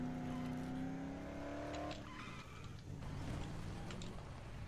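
Car driving in the zombie video game Dead Island, a steady engine drone with a falling pitch as it slows, then a rougher idle and rumble as the vehicle comes to a stop and parks.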